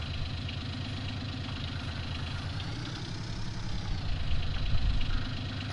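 A tractor engine idles in the farming game Farming Simulator 19, a steady low, rumbling drone that swells slightly louder toward the end, heard alone with no talk.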